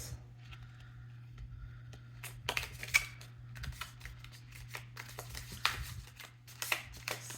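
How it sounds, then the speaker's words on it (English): Tarot cards being shuffled by hand in a large, hard-to-handle deck: soft irregular riffles and quick slaps at close range, starting sparse and then quickening into clustered bursts over a steady low hum. "Oh, if I can shuffle these cards here."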